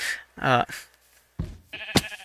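A sheep bleats in short, wavering cries in Minecraft, a few separate calls close by with brief gaps between them.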